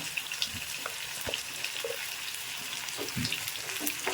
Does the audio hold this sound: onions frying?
yes